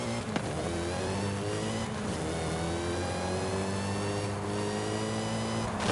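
A supercharged car in the video game Forza Horizon 5 sounds a steady engine drone with rising harmonic tones and a high supercharger whine. Engine speed shifts slightly over the stretch, and no one speaks.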